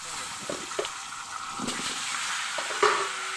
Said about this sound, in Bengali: তেলের মধ্যে জিরে দিয়ে দিলাম আলু ছেড়ে দিলাম